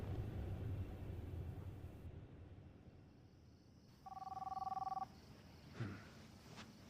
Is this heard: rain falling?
no